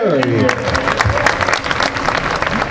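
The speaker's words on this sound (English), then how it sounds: "Mike, give him a nice round of applause." Audience applause at a high school marching band show in Tuscarawas County, a burst of dense clapping that starts loud and gradually thins, with a voice over a PA sounding through it.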